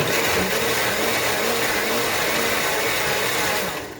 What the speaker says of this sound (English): You can blend this all at one time